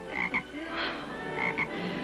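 A toad croaks in short paired calls, one pair near the start and another toward the end, with a softer rasp between them, all over a faint background hiss.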